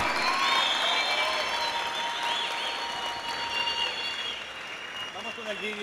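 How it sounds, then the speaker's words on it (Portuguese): A large crowd at the opening of a tech festival gives sustained applause mixed with cheering and whistles, a broad continuous roar with tonal squeals and voices layered through it. "Um aplauso muito forte, muito ruído e a celebração à vida!"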